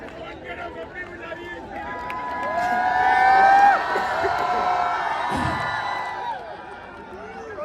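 An audience at a Bhilwara Mahotsav poetry festival cheers and whoops loudly, the crowd noise swelling to a peak midway and then easing off, with excited voices mixed through it.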